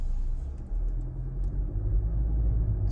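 A 2018-2022 Honda Accord is driving, and its interior road rumble and low engine drone hold steady and fairly loud throughout.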